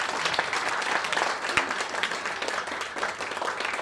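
Audience applause at a trailer launch for a biopic of Acharya Vidyasagar, a continuous crowd of clapping hands, moderately loud and steady throughout.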